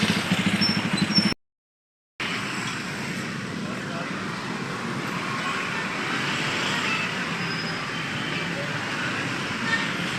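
Heavy road traffic on a busy street where food stalls line the roadside: a steady, fairly loud rumble of engines and passing vehicles throughout, briefly cut out near the start.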